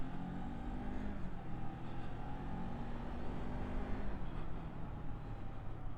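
A Kawasaki Ninja 400 motorcycle rides up the road, its engine droning steadily with shifting pitch as it pulls along, close and continuous under wind noise.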